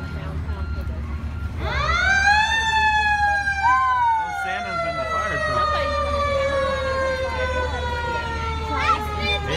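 A loud fire truck siren at a Christmas parade rises at about two seconds and holds a long, slowly falling tone, with crowd noise and voices underneath.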